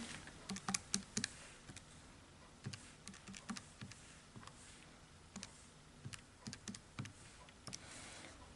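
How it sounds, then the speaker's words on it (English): Numbers being keyed into a calculator or keyboard for a maths calculation, with short clusters of light, quiet clicks separated by pauses. "Let's type that in."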